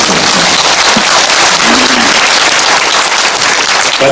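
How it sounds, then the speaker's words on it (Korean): Meeting audience in Jecheon, South Korea, bursts into loud, dense, continuous applause that fills the whole stretch with no talk over it. "박수 좀 쳐주세요"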